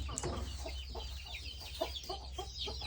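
Young backyard chickens cluck and squabble on a small mixed duck-and-chicken farm, giving quick, faint, overlapping calls and short scuffling bursts over a low steady hum, with no talk.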